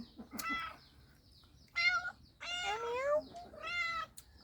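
Several hungry black cats wait to be fed and meow again and again, close and clear, in separate calls spread across a few seconds.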